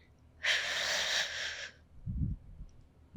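A single slow, deep inhale, recorded close to the microphone in a quiet, whispery ASMR setting, lasts just over a second. It is followed by a soft low thump.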